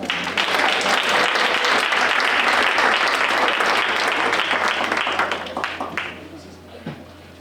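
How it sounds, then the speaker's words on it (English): An audience at a STEM awards banquet gives a round of applause, dense clapping that stays strong for several seconds before thinning out into scattered claps and a voice near the end. "Can we get another round of applause?"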